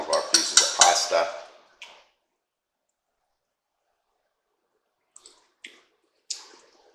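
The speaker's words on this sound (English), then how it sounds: "Give this a quick stir." A few metal clinks and a soft scrape ring out as pasta is stirred in a one-pot chili mac, separated by near silence and preceded by a brief burst of clattering.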